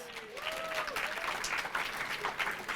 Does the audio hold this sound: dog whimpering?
no